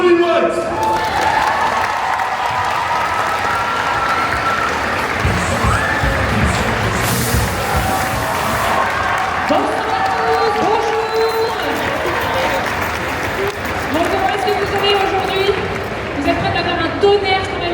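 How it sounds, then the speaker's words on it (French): A festival audience at Vlog Hero Festival 2025 claps and cheers for a guest taking the stage, a steady, loud crowd wash lasting throughout, mixed with voices and background music. "un tonnerre d'applaudissements pour Bonnie Wright"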